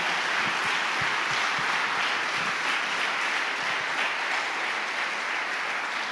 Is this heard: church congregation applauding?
yes